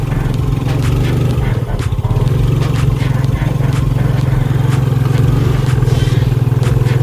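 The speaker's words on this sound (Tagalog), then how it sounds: "gumagana pa yung kanyang electric start ng Yamaha side na to" Yamaha Sight motorcycle with a sidecar running, a loud steady close engine drone with a low throbbing hum and light rattling throughout.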